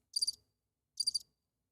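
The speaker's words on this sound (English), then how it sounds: "You hear crickets." Two short bursts of cricket chirping, each a quick trill of several pulses, separated by a brief silence; close and clear with nothing else audible.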